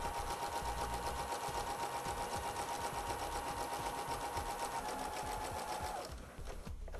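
A sewing machine with a couching foot stitches yarn down in a steady, close, continuous whir that holds for about six seconds and then slows and stops.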